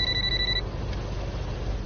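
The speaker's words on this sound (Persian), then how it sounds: "تلفنت رو گیر زودتر." A telephone ringing, a short electronic trill that sounds once at the start and then stops, leaving only a low background hum.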